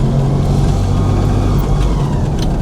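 A vehicle climbs a hill in second gear, its engine holding a steady, loud, low drone that pulls hard throughout with no gear change.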